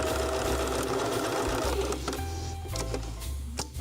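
A sewing machine runs quilt stitching in close, steady bursts, its rapid mechanical whir alone and fairly clear.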